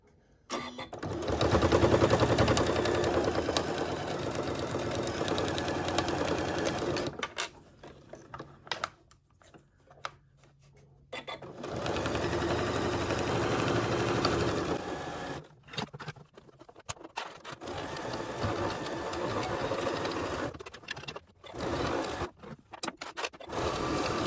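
A sewing machine top stitching a simple handbag runs in long close bursts, a loud steady mechanical whirr broken by short pauses and brief rustles between runs.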